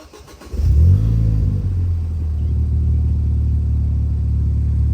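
A Ford Fiesta ST200 with crash damage cranks and fires up, its engine catching in a loud rumble that settles into a steady, close, even idle with no talk.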